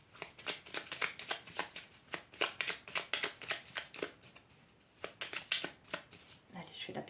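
A small deck of oracle cards is shuffled by hand, a rapid series of close, crisp riffling flicks in quick bursts with brief pauses between them.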